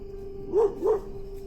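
A dog at a farmhouse gives two quick, close barks in succession over a steady background hum.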